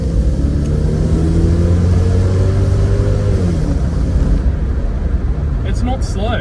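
A 1992 Lexus LS400 with a V8 and 346,000 km accelerates, its engine rumbling loud and close with a rising, droning tone that climbs and then eases off over several seconds.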